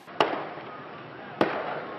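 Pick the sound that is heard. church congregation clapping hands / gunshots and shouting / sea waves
gunshots and shouting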